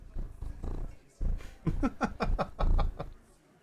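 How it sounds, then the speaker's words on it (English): Soft, breathy purring from a cat with a fluttering rumble, rising and falling in uneven bursts, close to the microphone. "You guys hear those little purrs?"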